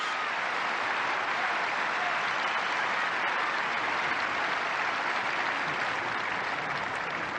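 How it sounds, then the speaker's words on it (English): Crowd at the 1983 Wimbledon tennis final cheering and applauding, a dense, loud, continuous wash of clapping from a large audience that holds steady throughout. "tremendous cheer for the 26-year-old New Zealander"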